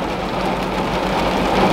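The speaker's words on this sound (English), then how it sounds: "I'm so happy that it's raining today" Steady rain falls on and around a parked car outside a coffee shop, a dense continuous patter with a low rumbling wash underneath, loud and close throughout with no talking.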